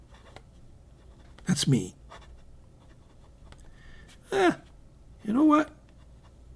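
A pen with a dry, skipping nib scratching across paper, with faint, close, intermittent writing strokes between short bursts of talk.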